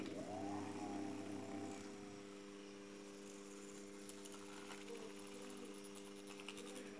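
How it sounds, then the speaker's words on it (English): A disassembled single-phase induction motor runs powered through a transformer, giving a faint steady electrical hum with layered tonal lines that persists throughout, a little stronger at the start. "see, the motor is rotating"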